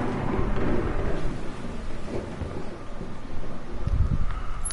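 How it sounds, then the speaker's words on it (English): Thunderstorm in the game Gone Home: a low, rolling rumble of thunder with windy, rain-like noise swelling and fading, building to a deeper roll near the end, with no voices. "Oh, thunderstorm."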